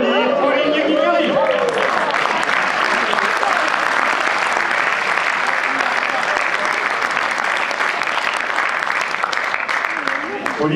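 A large audience at a champions' trophy ceremony applauds a horsewoman guest of honour, dense sustained clapping filling the whole stretch, with a voice speaking over the first couple of seconds.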